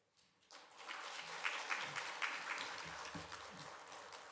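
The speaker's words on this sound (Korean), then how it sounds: "우리 강사 목사님 나오실 때 여러분 박수로 환영해 주시고" Church congregation at a Wednesday service clapping to welcome a guest missionary preacher; faint, distant applause that begins after a short pause and continues steadily, with some voices underneath.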